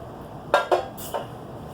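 Metal cooking pans from a ration pack clank together in three quick, close, distinct knocks, the last one softer, with no talk.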